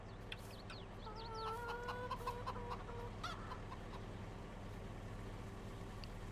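Chickens cluck and call softly while being fed from a shovel, a faint steady hum of farm machinery underneath the scattered bird sounds.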